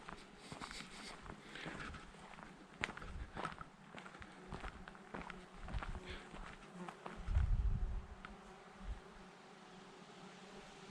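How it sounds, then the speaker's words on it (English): Many bees buzz among blackberry flowers beside a campground path, a faint, steady hum under the soft crunch of footsteps walking along. "Not sure if you can hear all the bees, but there's lots of them."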